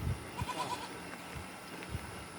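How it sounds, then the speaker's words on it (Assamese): Large goats kept on a farm alongside pigs give faint bleats, a few short calls set against outdoor background noise and low thumps. "এই ডাঙৰ ডাঙৰ ছাগলীও পালি ৰাখিছে"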